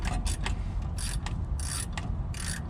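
A ratchet with a small socket turning bolts on the starter of a Ford F250/F350 6.2 truck, giving quick clicking bursts in a repeating rhythm at close range.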